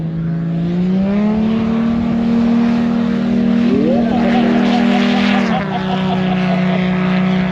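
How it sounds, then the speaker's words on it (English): A purpose-built STOL aircraft takes off at a short-takeoff event. Its engine drones loudly and steadily with a rising, shifting pitch throughout, and a voice talks faintly underneath. "That aircraft is purpose made just for STOL and STOL Dragon."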